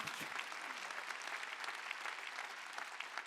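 A church congregation at a Christmas Sunday worship service claps together, dense and continuous applause heard at a modest level from start to finish.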